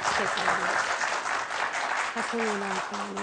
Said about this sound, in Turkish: bir alkışlayabilir miyiz şöyle değerli izleyiciler?